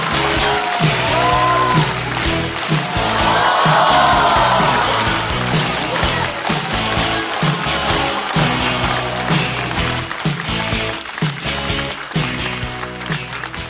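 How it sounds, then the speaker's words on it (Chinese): Studio audience at a Chinese stand-up comedy show breaking into loud, dense applause with some cheering, steady clapping continuing throughout over thumping background music. "掌声欢迎 Harry！"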